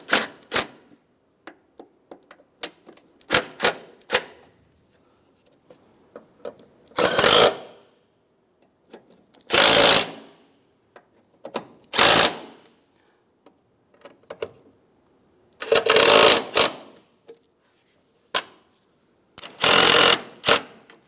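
A power tool loosens a bolt on a 2007-2015 Mazda CX-9 transmission mount, firing in several loud, close, rattling bursts of about a second each, separated by quiet gaps with small clicks and clinks.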